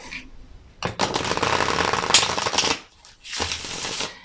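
Cards riffle and shuffle in two close, dense bursts, a long crisp flutter followed by a shorter one after a brief pause.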